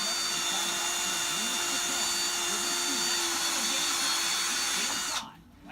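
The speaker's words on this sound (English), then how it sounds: "We'll go with the little unibit first." A power drill fitted with a small unibit step bit whines loud and steady while boring into plastic in a truck cab during a push-to-start button install, cutting off abruptly near the end.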